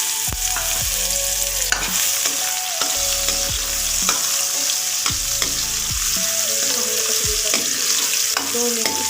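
Chopped onion frying in oil for homemade bhujia, with a steady loud sizzle and repeated scraping stirs of a spoon against the pan every second or so, no voices.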